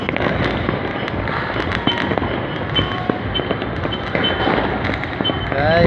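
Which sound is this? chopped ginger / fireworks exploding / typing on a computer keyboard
fireworks exploding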